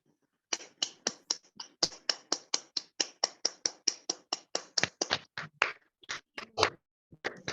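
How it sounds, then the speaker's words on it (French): A dense run of sharp, evenly spaced hand claps plays for about six seconds, thinning out toward the end, like a small online meeting audience applauding over open microphones. "Nous allons les applaudir."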